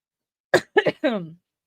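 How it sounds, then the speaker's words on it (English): A short burst of coughing, two or three harsh coughs close to the mic, then silence. "I'm so sorry for coughing into the mic"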